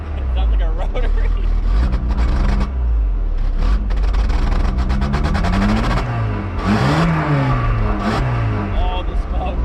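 Worn Volkswagen Golf Mk3 engine revving hard in a rough state, loud rising and falling buzzy rev sweeps with a raspy, rotary-like tone, close up, with people talking over it.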